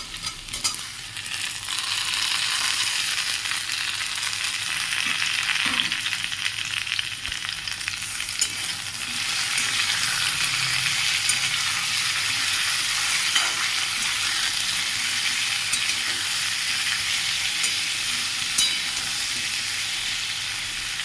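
Chopped tomato and chili go into a hot pan for a soybean dish and are stirred, making a steady, close sizzle and spatter with occasional scrapes of a utensil against the pan.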